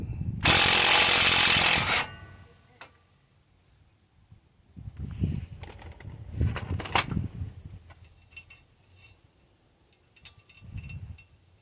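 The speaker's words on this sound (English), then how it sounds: "now I will back off on this tie rod end nut." A wrench works loose a tie rod end nut on a GMC Yukon XL front end, starting with a loud two-second burst of noise followed by scattered metallic clicks, scrapes and knocks nearby.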